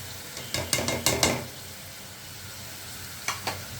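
Dry spices frying in oil in a pan for Bengali pabda fish curry: a close, continuous sizzle broken by a quick run of bright scraping stirs early on and a couple more near the end.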